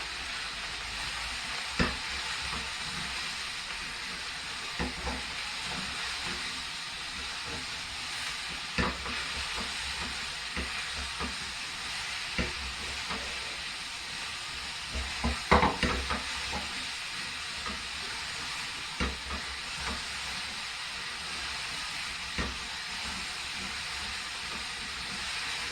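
Chicken with onion and pepper fries in a hot pan for a Chicken Jalfrezi, giving a continuous steady sizzle and hiss with occasional faint stirring clicks, close and even throughout, no speech.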